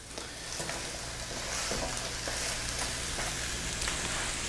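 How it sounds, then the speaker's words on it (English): Chopped vegetables for a coconut curry salmon dish hit a hot pan and hiss in a steady, fairly quiet sizzle that swells slightly and holds evenly throughout, with no talk. "I've got probably 3 or 4 cups of chopped vegetables that I'm going to throw in here"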